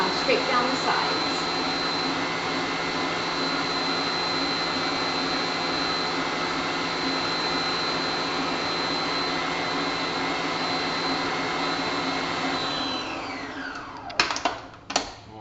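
Electric hand mixer whipping a thick s'mores dip in a bowl, a steady loud motor whir running on without a break for most of the stretch, then stopping, followed by a few brief clatters near the end.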